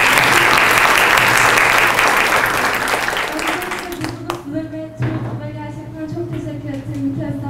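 An audience at a talk at İTÜ applauds loudly for several seconds, then the clapping thins out as voices begin speaking over the fading applause.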